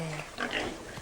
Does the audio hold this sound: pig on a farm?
yes